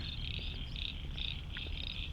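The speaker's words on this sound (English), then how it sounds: "Listen to the frogs." Many frogs croak together outdoors at night in North Traralgon, a steady chorus of overlapping calls running throughout, fairly near and continuous with no talking.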